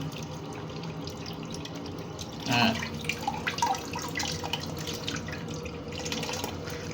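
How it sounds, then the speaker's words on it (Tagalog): Water poured over a waterproof sticker splashes and trickles nearby, with a brief louder splash followed by lighter dripping and running water. "Dumudulas lang ang tubig, oh."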